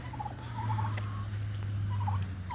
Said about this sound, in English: Oh, there's my two turkeys.